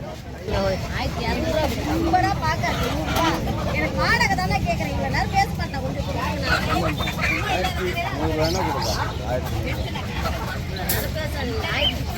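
Chickens and ducks cluck and squawk continuously at the busy Friday poultry market in Pallavaram, mixed with a constant crowd hubbub and close talking.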